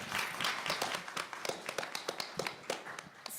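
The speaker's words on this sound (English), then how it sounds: "let's give them each a round of applause as they're introduced" Audience applause breaks out for panelists at a business panel event, a steady patter of clapping hands from a moderately sized crowd, with some sharper individual claps standing out near the end.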